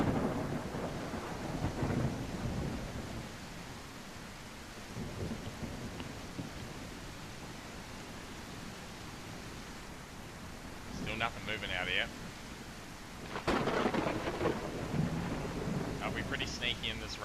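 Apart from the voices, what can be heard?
rain in a video game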